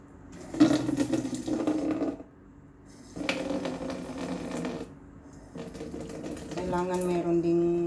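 A household water tap runs in bursts for a pet cat. Water splashes and hisses in three separate spells with short pauses between them, close by, and light background noise accompanies it.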